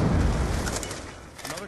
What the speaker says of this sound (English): I'm throwing the grenades right at them